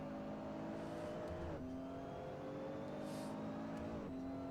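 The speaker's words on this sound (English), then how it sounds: "she doesn't want to listen to cars revving to the moon" Simulated race car engines from Assetto Corsa: a sustained, steady engine drone with held tones that shift pitch at gear changes, playing at moderate level alone with no talk.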